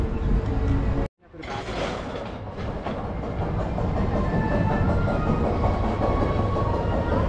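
An amusement park log ride at an adventure park in New Zealand rolls along its track, a steady loud rumble and clatter of wheels with a brief dropout near the start, while riders talk faintly.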